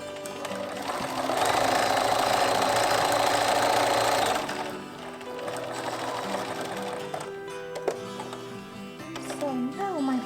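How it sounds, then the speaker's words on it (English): A sewing machine stitches a line around a fabric project bag, a steady close whirring hum for a few seconds, then lighter intermittent running and handling noises with a voice briefly heard. "I'm gonna sew a nice line around it to catch this in"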